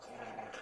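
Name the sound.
person vocally imitating a growl, a sound of displeasure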